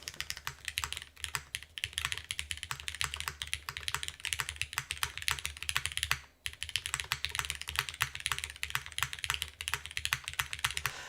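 Lubed mechanical keyboard switches on a CW87 build are typed on continuously, giving dense, fast clacking keystrokes close up at a moderate level, with a brief pause partway through.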